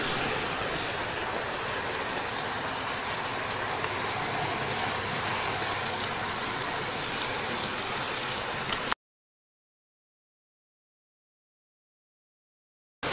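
A steady, hissing rumble of a Hornby model train running on track for about nine seconds, then abrupt silence.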